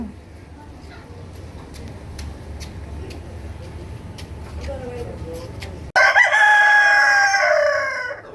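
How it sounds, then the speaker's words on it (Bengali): An Australorp rooster crows loudly and close by near the end, one long strained call over a quiet background hum and faint clicks. "এটা হচ্ছে আমার অষ্টলাভ মোরগ"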